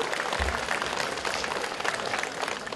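Steady, moderately faint applause fills a hall at a school opening ceremony, a dense wash of many hands clapping together without a break.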